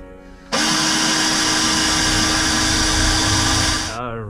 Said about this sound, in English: So you just keep drilling those holes